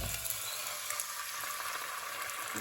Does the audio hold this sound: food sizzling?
yes